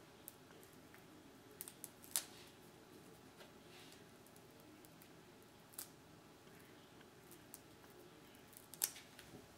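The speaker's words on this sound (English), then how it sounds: "Next, I just cut a little square of Velcro." A few sparse, quiet snips as scissors cut a small square of Velcro, scattered sharp clicks over a low steady background hiss, with no voices.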